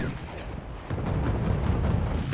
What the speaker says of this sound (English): My AML-60s get into range and start to fire their mortars onto the infantry